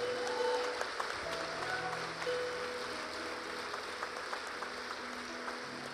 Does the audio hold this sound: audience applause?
yes